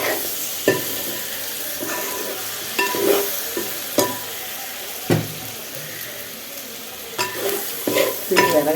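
Pork fry sizzles in a bronze pot (uruli) over a wood-fired stove, a soft continuous crackle punctuated by several sharp stirring scrapes, close by with no talk.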